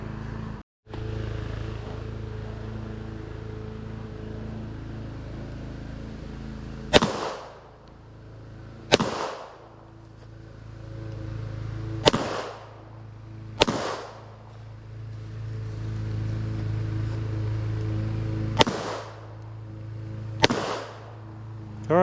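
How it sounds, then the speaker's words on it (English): A .380 Beretta pistol fires standard full metal jacket rounds into walls, about seven sharp, loud reports spaced unevenly over a low steady hum at an outdoor range. "we're gonna fire 2 rounds at each once again, and we're gonna see how the penetration goes on it"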